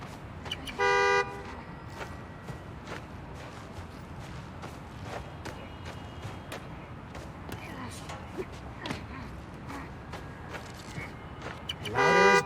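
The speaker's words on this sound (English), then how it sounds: "Find the horn, find the car." Car horn honks in Spider-Man: Miles Morales city gameplay, two loud blasts near the start and the end, over steady street and traffic ambience with footsteps and some talk.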